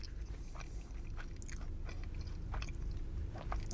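Close, crisp crunching bites and moist chewing of a KFC Poppin Twister tortilla roll, irregular snaps and scrapes over a steady mouth-noise rumble, with no talking.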